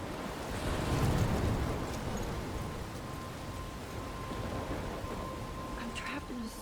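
A storm in the Life Is Strange video game, with steady rain, surf-like wash and low rumbling thunder under wind, continuous and fairly loud.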